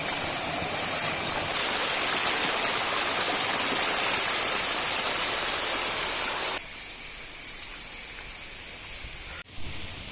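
A low-flow forest waterfall makes a steady broadband rush and hiss of falling water, loud and continuous, dropping in level partway through and then to a quieter flow.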